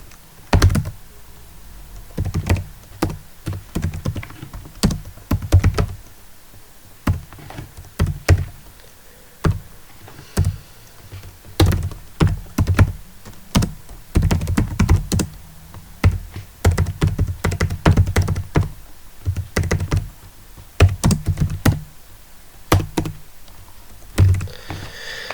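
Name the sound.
typing a command on a computer keyboard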